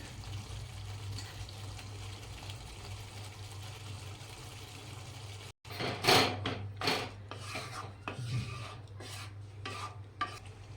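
Paneer is crumbled by hand into a pan for paneer bhurji, a faint sizzle at first, then soft, uneven rubbing and crumbling bursts close by.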